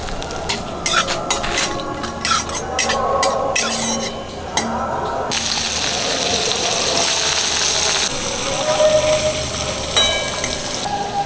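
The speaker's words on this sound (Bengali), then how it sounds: "তেল গরম হয়ে গেছে পাঁচফোড়ন দিয়ে দিলাম দুটো জিরে গোটা জিরে" Panch phoron and whole cumin seeds sizzle in hot oil for a banana-flower dal, with a spoon stirring and clinking against the pan; dense, steady frying noise close up, with sharp metallic taps early on.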